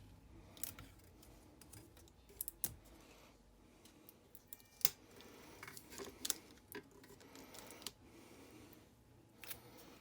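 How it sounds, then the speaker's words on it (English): Heat tape pulled and cut while wrapping a skinny tumbler for oven dye sublimation: quiet, close rustling with scattered sharp snips and ticks spread through, no talking. "So now, we take a little bit more heat tape."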